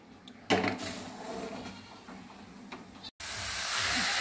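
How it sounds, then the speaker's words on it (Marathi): A pressure cooker cooking rice on a gas stove gives off a loud, continuous hiss of escaping steam that starts abruptly, breaks off for a moment, then resumes at full strength. "भाताला पण 3 शिट्ट्या करून घेऊया"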